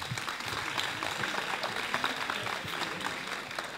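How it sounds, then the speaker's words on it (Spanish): Audience at a school science project forum applauds a student team's laser communication project, a steady round of clapping heard from a distance at modest volume. "un aplauso para ellos"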